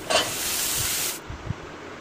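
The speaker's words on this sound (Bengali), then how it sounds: "পেঁয়াজ, কাঁচামরিচ একটু তেলে হালকা ভেজে সতে করে নিব।" Onion and green chili sizzle in a little hot oil, a steady bright hiss that cuts off abruptly after about a second, leaving faint low clatter.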